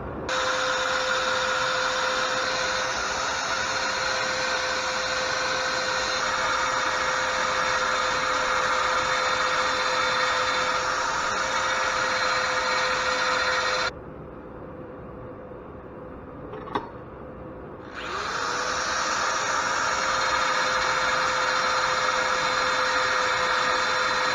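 Sanding a brass die with fine 1,000-grit abrasive sends out a steady, loud motorized whine and hiss that cuts out for a few seconds, then resumes at the same level.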